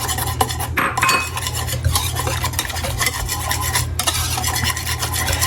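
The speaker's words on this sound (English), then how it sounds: "But what we're going to do is mix our wet with the dry. We're going to get our egg yolks in there as well." Wet and dry pancake batter ingredients and egg yolks are stirred together in a bowl with a utensil, producing continuous scraping, rubbing and clinking close up and loud, with no voices.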